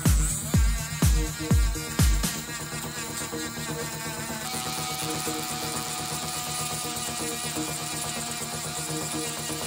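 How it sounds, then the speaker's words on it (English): A power tool grinds the curves off small plastic Akedo Warrior toy figures outdoors, a steady high whine running continuously after a few short bursts at the start. "Now, we can go outside and grind all the curves off these guys."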